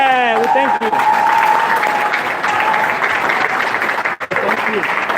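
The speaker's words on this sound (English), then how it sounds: "That deserves a round of applause" Applause from an audience at a creators' meetup in Ghana, West Africa: loud, sustained clapping filling the room, with voices calling out over it near the start and briefly dipping near the end.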